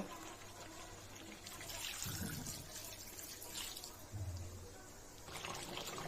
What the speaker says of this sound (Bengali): এখন আমি ঝোলের পানি দিয়ে দিব।